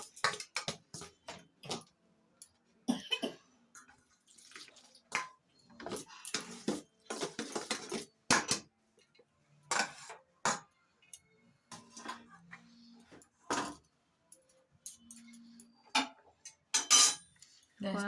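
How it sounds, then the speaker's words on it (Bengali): A whole boiled potato is mashed in a kitchen, heard as irregular clinks, scrapes and taps of a utensil against a bowl, close and quiet, with gaps between strokes. "একটা আলুকে সেদ্ধ করে নিয়ে, গোটা সেদ্ধ করে নিয়েছে, নিয়ে ওটাকে একটু মাখো মাখো বানানোর জন্য মনে হয় ঘেটে নেওয়া হচ্ছে"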